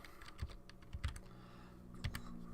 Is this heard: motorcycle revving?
no